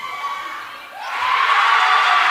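A student section crowd cheers at a girls' high school basketball game in a gym, the cheering swelling suddenly into a loud, sustained roar of voices and whoops after a brief quieter lull.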